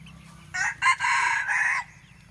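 Young fighting cock chicks let out a brief cluster of high, strained crowing calls lasting about a second, fairly close against a low background hum.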